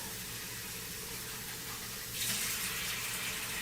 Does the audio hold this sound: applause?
no